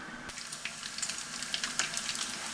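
A piece of lamb tail fat melts in a pan, giving off a steady soft sizzle with scattered small pops and crackles, close and fairly quiet, with no talk.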